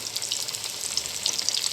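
Quail pieces fry in hot oil over a medium flame, a fizzing, popping crackle with irregular sharp spits throughout, close and moderately loud, with no speech.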